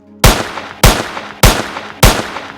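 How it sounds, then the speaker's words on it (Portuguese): Four sharp, loud gunshots fired one after another at an even pace, each with a short ringing decay and no voices. "Dispararam 4 tiros contra mim"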